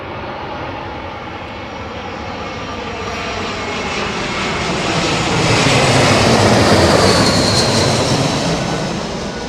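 A 26-year-old Boeing 777 arrives at Heathrow in gusty wind, its loud, close jet roar swelling to a peak mid-pass and then easing slightly, with no talking over it.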